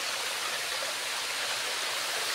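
Busay Falls pours as a constant, broad rush of falling water, steady and loud close by, with no voices heard.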